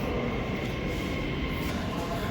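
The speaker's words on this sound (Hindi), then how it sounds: "ये है ऑरेंज ट्रेन" Lahore Orange Line metro train, a steady loud rumble of the train running on its rails, continuous and close, with no talk over it.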